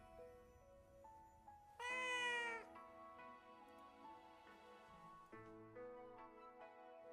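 A cat in the video game Where Winds Meet lets out one loud, drawn-out meow, set against soft sustained in-game musical tones.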